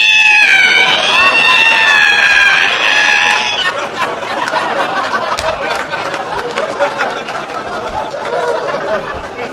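A voice imitates a long, wavering squeak like an ironing board being opened, followed by a noisy crowd of chatter and laughter.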